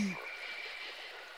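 Frogs croak steadily beside a gurgling river near a small wooden footbridge, a faint, continuous chorus with a brief low sound at the very start.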